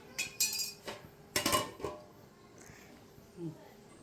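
Prawn gravy is stirred in a pan with a few sharp metallic scrapes and clanks, then a lid clatters on, followed by quiet background.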